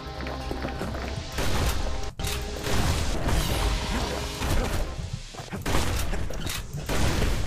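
Rapid, dense gunfire and crashing combat effects from the video game Bastion, loud and continuous throughout with constant impacts and bursts.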